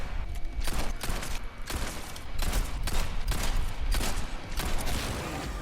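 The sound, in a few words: pistol gunshots in the Separate Ways video game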